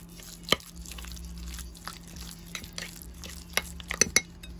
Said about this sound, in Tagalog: Then, i-mix natin. We'll mix it.